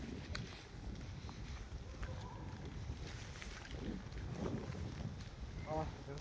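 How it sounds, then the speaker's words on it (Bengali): Morning wind blows steadily beside a lake, producing a soft, continuous rumble and buffeting across the microphone, with faint distant sounds beneath. "দারুণ হাওয়া চলছে।"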